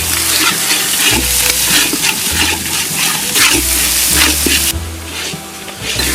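Onion frying in a pan with garlic paste, ginger paste and green chili, a loud, close, continuous sizzle broken by regular stirring scrapes, with no talking.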